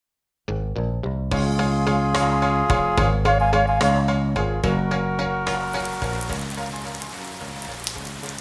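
Rain sound effect accompanying a children's story reading, a steady patter of falling rain blended with gentle plucked musical notes, filling the whole stretch at an even, moderate level with no voices.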